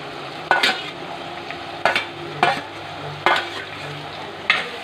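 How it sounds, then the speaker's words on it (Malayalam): Kera curry with onion and crushed chilli stirred in a pan: five or six sharp spoon scrapes against the metal over a faint sizzle, close by and without talk. "അത് നല്ലോണം ഇളക്കി കൊടുക്കാം."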